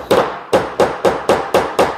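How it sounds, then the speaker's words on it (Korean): A hammer drives a shelf support peg into a gap cabinet. Seven sharp, evenly spaced knocks sound up close and loud with nothing else in between. "위치를 정확하게 맞춰서 망치로"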